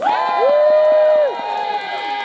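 An audience cheers and whoops for an improv comedy game at a Renaissance faire show in Pennsylvania: a loud, short burst of crowd voices with one high, sustained whoop rising above the rest.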